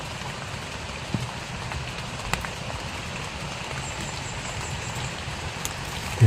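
Water current rushes strongly in a steady, close patter-like flow, with a few faint knocks on top.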